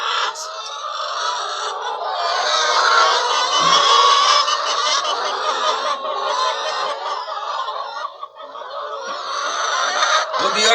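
Red egg-laying layer hens on a farm, a crowded flock clucking and cackling continuously and loudly close by, with overlapping calls and brief dips.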